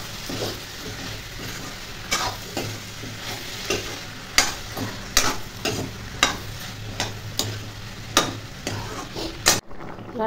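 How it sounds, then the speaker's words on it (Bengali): Okra, potato and shrimp frying together in a home kitchen, a steady sizzle broken by repeated sharp scrapes and clinks of a spatula stirring the pan at a fairly regular pace, close and alone. "এদিকে আমি ঢেঁড়স আলু দিয়ে চিংড়ি মাছ দিয়ে করে নিচ্ছি।"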